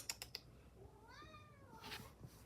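A hungry cat meows to be fed, one drawn-out rising and falling cry at close range, preceded by a few quick clicks or taps and followed by a brief rustle.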